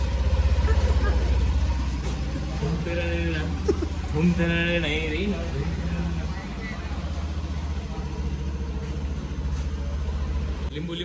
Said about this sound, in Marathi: गाडी स्टार्ट मारेंगे.